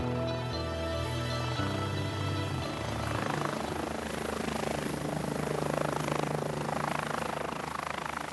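Rescue helicopter in flight over Corsica's mountains, its steady rotor thump and turbine whine loud and continuous throughout, with no pauses.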